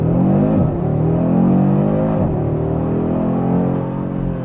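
A 2024 Audi RS3 in dynamic mode accelerates hard from close by, its exhaust note rising steadily through the gears and dipping briefly at each shift, loud and continuous throughout.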